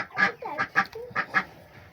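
Ducks on a poultry farm quack in a quick series of about five short, nasal calls, close and fairly loud, with brief gaps between them and no talking.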